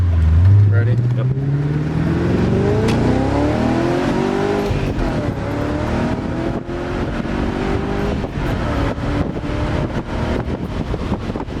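A 1999 BMW E39 540i/6 driven hard, its engine loud and close as it revs up through the gears in repeated rising sweeps, with steady wind noise throughout.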